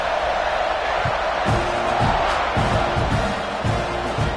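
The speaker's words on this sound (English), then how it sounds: "this crowd is buzzing after that last score" A stadium crowd buzzes steadily in a football video game, a loud continuous roar with rhythmic thumps and muffled voices underneath throughout.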